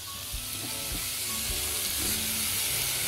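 Garlic sizzling and frying in very hot butter in a pan while fish is prepared, a steady close crackling hiss with a few soft stirring knocks and no talking.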